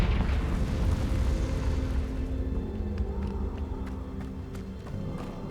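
A Confringo spell explodes in Hogwarts Legacy with a deep, rumbling blast that booms loudly at first and slowly fades into a low roar, with a few faint clicks and effects scattered over the tail.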